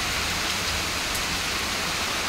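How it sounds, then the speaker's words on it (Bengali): Heavy rain pouring down steadily on a morning with thunder around, a dense, even roar of drops on surfaces, close and loud with no voices or breaks. "প্রচুর বৃষ্টি হচ্ছে আজকে"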